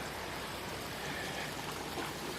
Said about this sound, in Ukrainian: прямо з гор тече річка.